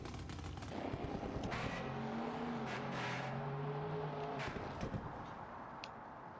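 Car accelerating hard with nitrous in the BeamNG driving game, its engine note climbing in pitch across several gears with gunshot-like pops, fairly faint and steady.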